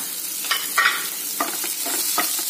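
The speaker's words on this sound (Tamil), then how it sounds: "எல்லாம் போட்டு நல்லா வதக்குங்க." Dried chilli, ginger and garlic stir-fried in a pan, giving a steady sizzle broken by several scraping stirs of a spoon, close and moderately loud, with no talking.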